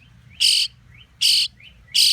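Baby birds in an attic give three loud, harsh tweets in a regular rhythm, each preceded by a faint softer call, close by with quiet gaps between.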